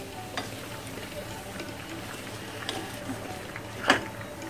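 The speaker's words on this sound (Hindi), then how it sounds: "इस तरह से भूजते जाएंगे, बराबर चलाते रहेंगे, छुटाते रहेंगे, घी छूटने तक भूजेंगे।" Moong dal being roasted in ghee in a kadhai, stirred steadily with a soft continuous sizzle and scraping, one sharper clatter near the end, no talk.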